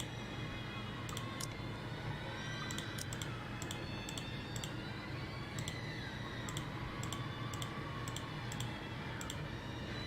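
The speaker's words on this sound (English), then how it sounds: "it must be getting really fucking annoying to hear my fucking mouse clicks" Computer mouse clicks in a video game session, a scattered run of short sharp ticks coming in small bursts over a steady background hum, fairly faint and close.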